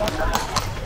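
A horse's hooves clip-clop on the street of medieval Bruges, a steady close rhythm of sharp knocks heard under someone talking.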